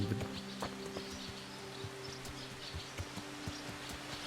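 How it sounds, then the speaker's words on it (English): Hooves clip-clop steadily from a horse in the medieval video game Kingdom Come: Deliverance, a regular walking rhythm over a constant outdoor ambience with faint bird chirps, no talk. "Is that our horsey in there?"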